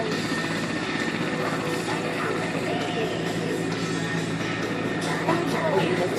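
Military Mi-24 and Mi-171 helicopters landing at an air show, giving a steady, loud rotor roar that holds for the whole stretch, with faint crowd murmur underneath.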